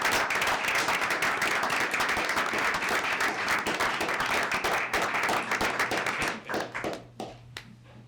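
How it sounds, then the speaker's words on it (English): Applause at a city mayor and council meeting, many hands clapping loudly and steadily for about six seconds before thinning into scattered final claps and fading out. "Give her a round of applause."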